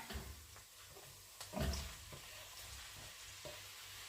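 Meat frying in a pan with already-browned carrot and onion, a soft steady sizzle with a few louder stirring scrapes and clatters near the middle.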